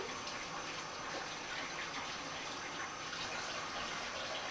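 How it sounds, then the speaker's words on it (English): Tap water runs in a steady, soft gush while hands are rinsed beneath it to wash off bacon grease, a constant quiet splashing with no talk. "Rinse my hands. Wash my hands, really."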